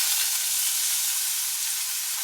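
Onions frying in a pan with mustard seeds in a home kitchen, a steady close sizzle and hiss filling the whole clip with no talk over it.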